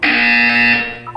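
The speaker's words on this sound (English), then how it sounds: "You will hear a buzzer." A loud, steady electronic buzzer in Portal 2 drones for about a second, holding one harsh tone before fading down, with a brief blip at the end.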